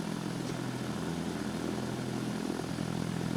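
A propeller airplane in the Stormworks video game drones steadily as it lines up on the runway for takeoff, a constant loud engine hum with no talk.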